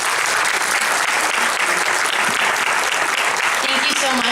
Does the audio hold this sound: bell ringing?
no